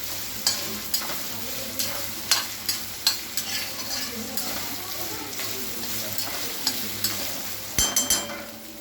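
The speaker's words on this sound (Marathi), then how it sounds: "तिला अशी भाजत राहायची तेलात" Green chillies fry in oil over a low flame with a soft, steady sizzle, punctuated by repeated spoon scrapes and knocks against the pan as they are stirred.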